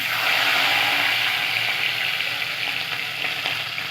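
Whole cumin seeds and green chilies fry in oil in a wok, giving a steady, close, hissing sizzle with faint crackles throughout, while cooking a spicy prawn curry with tomato and coriander.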